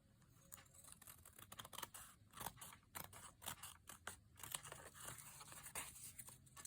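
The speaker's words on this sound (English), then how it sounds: "Now we're just going to use scissors to trim it" Scissors snipping and trimming toilet paper close to its edge for a craft background, a quick series of sharp, close cuts and crinkly paper rustles in irregular rhythm, quiet and without talk.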